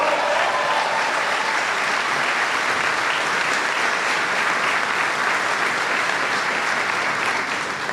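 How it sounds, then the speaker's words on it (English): A crowd applauds a newly introduced Army general, sustained and fairly loud clapping at a steady level across the whole stretch with no speech over it. "Give Joe a big round of applause"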